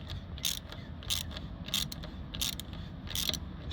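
Repeated ratcheting clicks and scraping as a tire repair plug is worked and tightened into a tire on a 2003 Ford Lightning SVT, coming in short regular bursts over a low mechanical rumble, fairly close.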